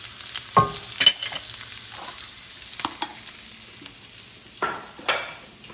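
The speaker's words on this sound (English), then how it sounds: "I'm gonna add some onions to the other side of my pan because I love onions." Onions dropped into a pan beside vegan chorizo for loaded nachos, frying with a gentle, patchy crackle and occasional stirring knocks and clatter, fairly quiet and close, without speech.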